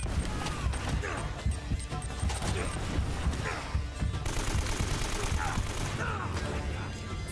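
Rapid gunfire bursts and shots from the Uncharted video game, dense and continuous over game music and effects, with a player's voice talking over the action.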